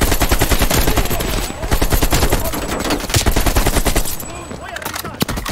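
Rapid machine gun fire from Call of Duty Black Ops Cold War rattles loud and close in sustained bursts, with a short pause before the final shots.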